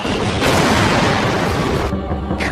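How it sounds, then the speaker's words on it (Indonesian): A film explosion as the robot Bruno is blown apart by a ballistic rocket, heard as a loud, dense blast roaring continuously for about two seconds before cutting off sharply. "Alhasil Bruno pun meledak dan hancur berkeping-keping."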